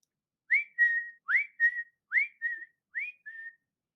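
Cheerful whistling alone: four paired phrases, each a quick rising swoop followed by a steady held note, evenly spaced and clear, with short silences between.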